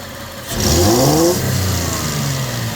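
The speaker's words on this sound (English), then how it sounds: "you can hear the engine sounds like there's a restriction, like it's not breathing right" Toyota Tacoma 3.4 engine taken to wide open throttle with a lean-running fault, rising in a strong, close rev that then holds at a steady high drone.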